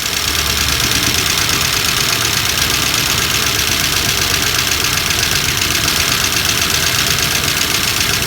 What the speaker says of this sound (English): Listen to that valve clatter. Oh, we got a dead valve here.